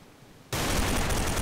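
Gunfire in the online shooter Special Force 2: after half a second of near silence, a sudden loud, dense burst of rapid shots sustains to the end, close and continuous with no talk.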